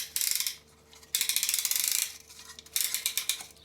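A piston ring compressor being tightened around a piston during an engine rebuild, giving close, quiet bursts of rapid ratcheting clicks in three runs separated by short pauses.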